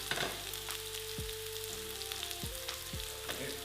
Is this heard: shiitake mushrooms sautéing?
yes